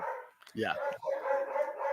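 Dogs barking in the background, a sustained yipping, howl-like bark running under a person's brief spoken word.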